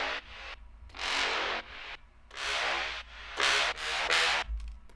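Quicks brass synth processed with OTT, EQ and sidechain compression: bright, buzzy, heavily compressed chord stabs that swell and cut off in pumping bursts over a low bass tone, with no talking.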